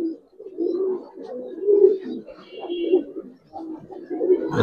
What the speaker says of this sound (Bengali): বাঘা কবুতরটা দেখেন ভাই